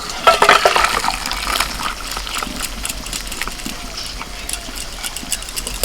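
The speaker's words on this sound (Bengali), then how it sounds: "কলাইটা দেখুন কত সুন্দর সিদ্ধ হয়ে গেছে ঢেলে নেব" Boiled lentils (kalai) slide wetly into a pan of spices and ground chilli. A brief, close pouring splash comes near the start, then fades into a low, steady background hum.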